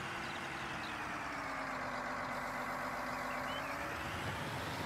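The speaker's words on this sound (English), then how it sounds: "This is Raznik's tractor, Klossy B" A tractor engine idling in Farming Simulator 19, a steady low mechanical drone with a faint tonal hum, constant and fairly quiet, no voices.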